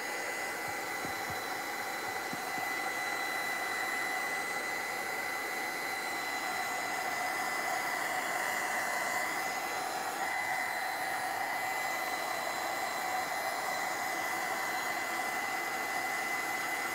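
A heat tool blows steadily while drying paint on an altered horse craft piece, a constant whooshing whir that stays even and unbroken throughout with no voices.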